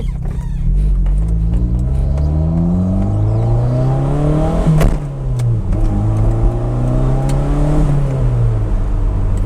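A Toyota MR2 mid-engine turbo sports car of about 200 hp accelerates hard, its engine note climbing and dropping through gear changes, loud and close with no talking.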